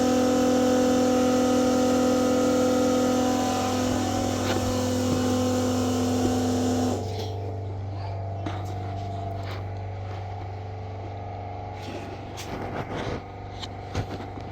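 A pump on a race car runs with its regulator spring humming: a strong steady tonal whine lasts about seven seconds, then drops off to a lower hum with scattered light clicks and taps.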